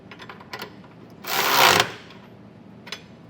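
A 3/4 inch (19mm) wrench working trailer hitch bolts under a 2020 vehicle frame gives a short, dense burst of rapid metallic ratcheting, loud and close, with a few faint clicks before and after.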